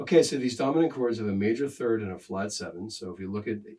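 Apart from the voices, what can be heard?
None of the usual background noises is heard.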